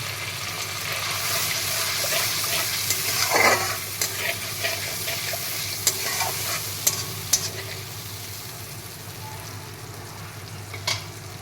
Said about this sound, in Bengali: এখন দিয়ে দিচ্ছি ভিজিয়ে রাখা মশলাটা, দিয়ে ভালো করে কষিয়ে নেব